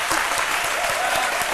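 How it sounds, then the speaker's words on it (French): Dense, steady audience applause fills the whole stretch, many hands clapping together at a loud, even level. "je voudrais qu'on s'arrête et qu'on se lève et qu'on applaudisse"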